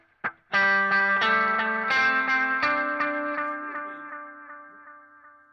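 Electric guitar played through a Boss Metal Zone distortion pedal and a TC Flashback tape delay, with heavy reverb, for a synth-style tone: a few picked notes and chords ring out and trail off in long echoing repeats, with no talking.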